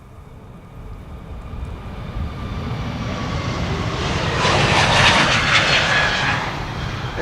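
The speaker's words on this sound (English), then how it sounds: "Next up, JetBlue Flight 32 to Boston," A JetBlue jet airliner departs Schiphol for Boston, its engine roar building steadily from a distant rumble to a loud broadband blast with a hissing whine near the end, heard alone.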